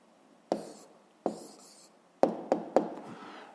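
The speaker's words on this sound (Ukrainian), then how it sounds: "Записуємо відповідь, пишемо відповідь." A pen writes an answer on paper in a quiet room, giving a few sharp, distinct strokes and taps spaced over a few seconds with no talking.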